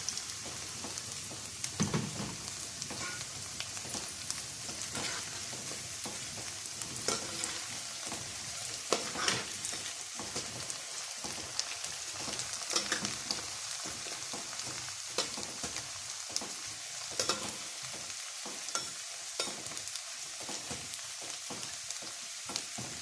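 Jasmine and riceberry rice deep-frying in hot oil over low heat, a steady fine crackling sizzle throughout with soft intermittent bubbling pops, close and moderately quiet.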